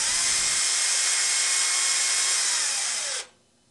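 A power drill runs steadily at high speed with a bright whine, then abruptly winds down and stops near the end, close and loud with no talk.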